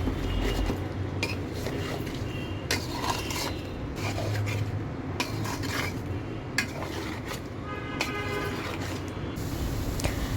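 Chicken and potatoes are stirred and scraped in a pan, with repeated clattering metal spatula strokes over a low sizzle, close and busy, and no one speaking.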